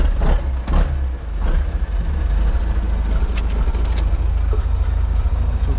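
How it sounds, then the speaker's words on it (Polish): Zetor tractor engine idling steadily during preparation for ploughing before a rapeseed crop, a loud close continuous low rumble with a slight fluctuation near the start and no talking. "O, posłuchamy sobie trochę, kurde, ciągnik pracuje."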